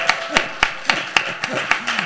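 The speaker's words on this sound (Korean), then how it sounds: "우리 축하의 의미에서 박수를 한번." Church congregation clapping to celebrate a member's birthday, a string of sharp, evenly spaced handclaps close to the microphone, with a voice talking underneath.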